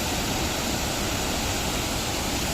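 River water surging steadily after heavy rain, the Demi river at Tankara in Morbi running high near a weir; a loud, continuous broadband roar with no pauses and no voices.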